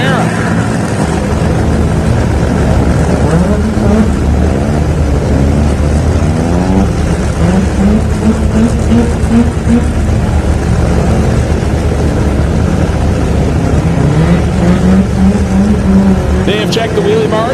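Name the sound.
Chevrolet Camaro drag car making a single pass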